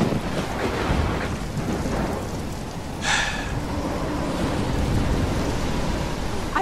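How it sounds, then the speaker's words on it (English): A thunderstorm in the video game Life is Strange, set in Oregon: a steady roar of heavy rain and wind, with a brief sharper crack near the middle and no voices. "I've never seen a storm like this in Oregon."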